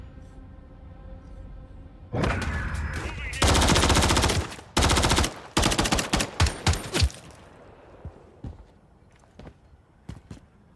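Bursts of automatic gunfire from Call of Duty: Modern Warfare III multiplayer hammer out in loud rapid volleys, then thin into scattered single shots trailing off toward the end.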